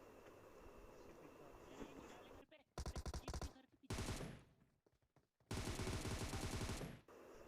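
Bursts of automatic gunfire in PUBG Mobile, loud rapid-fire volleys broken by short pauses, with background game noise and a softer stretch of distant shooting at the start.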